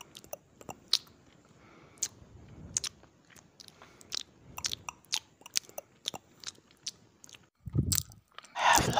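Close, quiet mouth sounds of someone chewing gum: sticky clicks, smacks and wet squishes in an irregular rhythm, with a louder burst of crunchy chewing toward the end.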